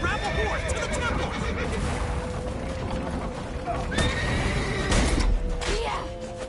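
In The Witcher 3: Wild Hunt, a horse whinnies loudly amid clip-clopping hooves and mechanical clatter, with voices shouting in the background.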